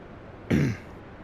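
One short, rough throat-clearing cough sounds close and alone against a quiet background.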